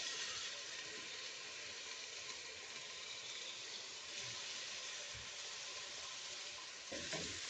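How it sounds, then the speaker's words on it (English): Onions, tomato and green pepper frying in plenty of fish oil, producing a steady, bright, hissing sizzle that continues unbroken and fairly faint, with only a faint stir near the end. "Give it a stir. Now I'm going to make my onions, green pepper, and my tomato golden brown"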